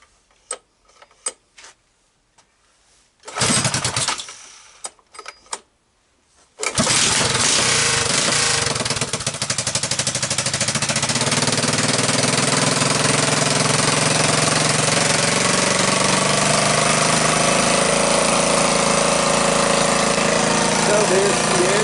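A 1984 Honda ATC200M three-wheeler, running badly with the choke on, cranks in a few short bursts, then catches and settles into a loud, steady, high idle close by.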